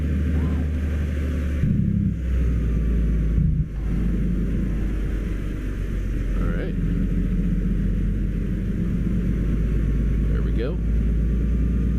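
Steady low rumble of a truck engine in Euro Truck Simulator 2, turning around in a parking lot in Tornio, droning continuously and loudly while someone talks over it.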